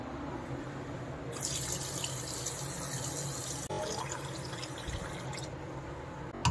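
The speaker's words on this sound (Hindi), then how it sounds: "और अब इस कढ़ाई में हम ले लेंगे पानी।" Water pours into a kadhai holding washed chicken for boiling, a close, continuous splashing rush that starts after a moment, runs for several seconds with a brief break, then tapers off.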